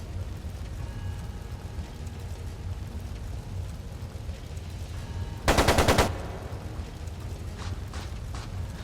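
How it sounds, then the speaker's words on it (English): A single loud, rapid burst of machine gun fire lasting about half a second, from the role-playing game Trails of Cold Steel II, rising sharply above a steady low background rumble, with faint mechanical clicks afterward. "It sounded like a machine gun."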